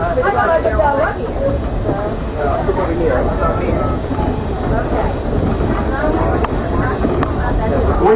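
Strasburg Railroad troop train ride heard from inside a passenger car, a steady loud rumble of wheels and carriage noise filling the whole clip, with people talking over it and a couple of sharp clicks near the end.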